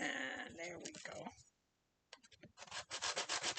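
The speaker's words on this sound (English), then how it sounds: "this is a brand new sanding block" Rhythmic scratchy rubbing of a brand new sanding block against wood, back-and-forth strokes after a brief pause, with a voice talking over the first part.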